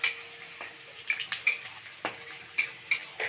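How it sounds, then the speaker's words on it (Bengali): A utensil stirs chicken with peppercorns in a pan, with sharp scraping clicks and taps coming in an uneven rhythm over a faint sizzle and no talking. "এইবার এটাকে আমি একটু নেড়ে নিচ্ছি।"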